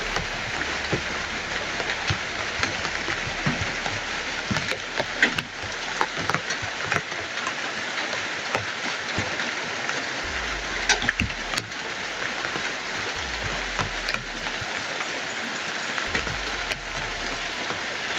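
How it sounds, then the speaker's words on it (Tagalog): Heavy rain pours steadily in a mountain setting, a dense, loud hiss of drops hammering surfaces that runs unbroken throughout, with occasional low rumbles and sharper splatters but no voices. "Sobrang lakas ng ulan mga idol."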